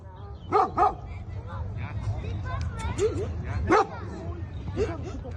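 Several stray dogs bark and yip at irregular intervals, some near and some farther off, over a steady background of voices and street noise in Bakırköy, Istanbul.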